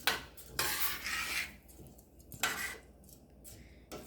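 Rice and water being tossed in a pot for yellow rice and beans, with a few scraping, rustling strokes of a utensil against the pot in a quiet kitchen.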